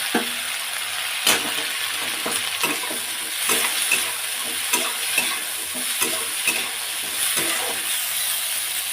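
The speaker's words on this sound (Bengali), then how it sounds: "বটবটিগুলো দিয়ে দেবো, একটু হালকা করে ভেজে নেব।" Botboti fish fries lightly with black cumin in a pan, a steady close sizzle broken by repeated scraping strokes of a spatula stirring the pieces.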